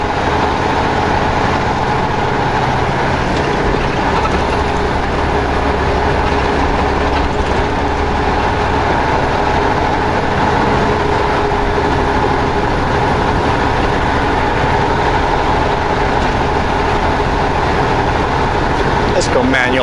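A Ram 1500 pickup truck, empty and climbing toward a hill in manual mode, holds high RPM with its tires spinning, making a loud, steady engine drone and road rumble that runs throughout beneath someone talking.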